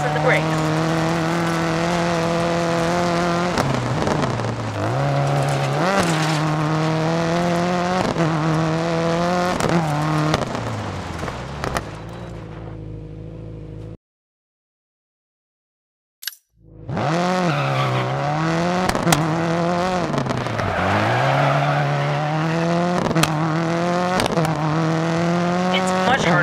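Rally car tires squeal and slide on a loose surface in Dirt 4 on PS4 Pro, over a loud revving engine that climbs and drops through the gears. The noise cuts out briefly midway, then the screeching and engine roar return.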